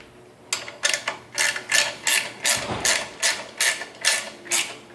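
A ratchet wrench with a 9/16 socket tightens bolts on a pressure washer pump, a close run of about ten crisp clicking ratchet strokes in a steady rhythm, with no speech.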